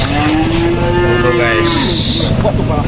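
A very large bull of around 1.4 tonnes moos close by, one long, loud, drawn-out call that slides in pitch before trailing off, over a noisy outdoor background.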